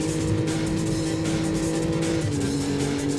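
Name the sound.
Ferrari car engine racing in Need for Speed: Road Challenge video game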